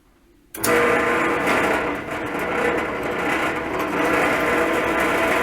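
A drill bit grinds loudly and steadily through a rivet on a John Deere 14-T baler, starting abruptly after a brief quiet moment and continuing as a dense, rough whirring drone.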